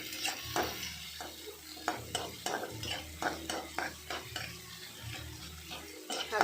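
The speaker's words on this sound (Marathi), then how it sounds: "टाकायचा तर कांदा टाकलाय, आता मस्त हलवून घ्यायचं।" Onion sizzles in hot oil in a pan as a spoon stirs and scrapes it in steady repeated strokes, with soft clinks of utensil on metal over a constant frying hiss.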